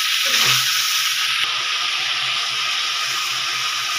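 Potato and cauliflower sauté with spices in a pan, giving a steady, close hiss of frying that holds evenly throughout, with a faint low knock early on.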